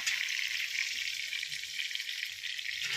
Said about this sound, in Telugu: ఇలా మామూలుగా ఆయిల్ వేసి ఫ్రై చేస్తున్నాను